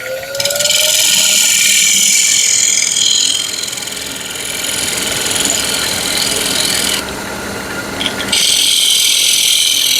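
A bowl gouge cuts into the wooden base of a whiskey smoker on a lathe, giving a steady loud rasping scrape that carries through most of the stretch, drops briefly, then resumes.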